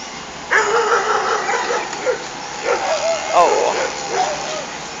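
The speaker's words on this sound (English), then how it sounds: "Dog's all stressed out." Stressed dogs give short yips, whimpers and barks in a chaotic scene, several bursts spread across the clip over a steady background hum.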